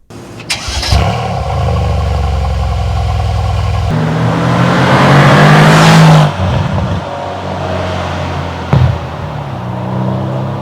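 A Mercedes C63 S AMG engine fires up and revs hard, its exhaust roaring louder as it accelerates, then dropping back and surging again near the end.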